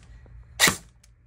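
A single sharp shot from a $100 Amazon airsoft replica gun upgraded with a Gate Titan and speed trigger, close and crisp, with quiet background and no talking.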